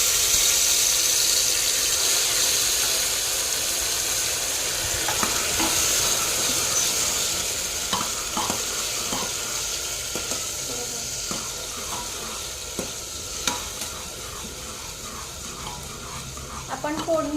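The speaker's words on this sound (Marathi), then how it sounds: "आता आपण इथे मगाशी केलेली कांदा टोमॅटोची प्युरी घालणार आहोत" Onion and tomato puree hisses loudly as it hits hot oil with spluttering mustard seeds, a strong sizzle that fades gradually over time, with scattered spoon clinks and stirring.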